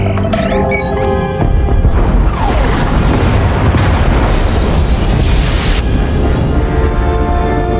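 Pod bays blown apart in Star Wars: The Old Republic, a loud sustained roaring explosion with crashing debris and rumble filling the whole stretch, swelling after a brief dip near the start.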